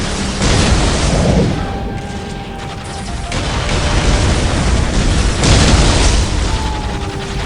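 Heavy artillery explosions from Whirlwind artillery tanks in a Warhammer 40K video game, a dense, continuous barrage of booms and rumbling blasts with bursts swelling and fading throughout, loud and close.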